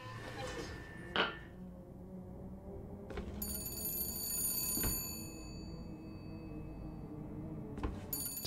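Telephone ringing in BioShock Infinite: a quiet scene where a bright, metallic bell-like ring chimes repeatedly, sounding in bursts, with occasional thumps and low ambience beneath.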